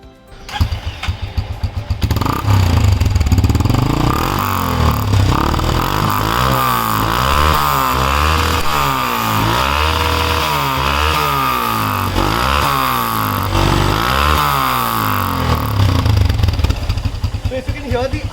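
Modified Hero Impulse motorcycle with a custom bent exhaust, heard close up idling steadily, then revving in a series of repeated rising and falling throttle blips before settling back to idle.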